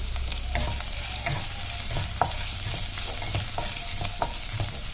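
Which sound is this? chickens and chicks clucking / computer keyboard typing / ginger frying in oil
ginger frying in oil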